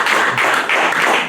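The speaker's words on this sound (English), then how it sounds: "can we have a round of applause for a true Medford champion" Loud, close audience clapping for a Medford community champion at a Friday talk segment, a brief dense burst of hands with a few sharper individual claps standing out.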